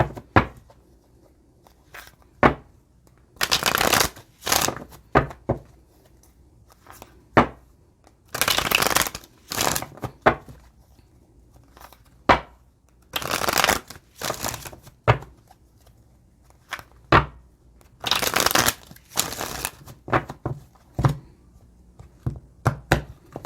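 Tarot cards are shuffled by hand in repeated bursts of riffling and slapping, each lasting a second or so with short pauses between, close and fairly loud with no speech.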